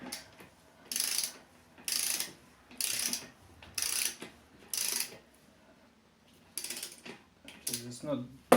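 Torque wrench ratcheting on the rear wheel assembly of a Suzuki VL800 Intruder Volusia motorcycle, heard as five bursts of clicking at a steady rhythm, then a pause and a few shorter ratchet clicks with a faint metallic knock near the end.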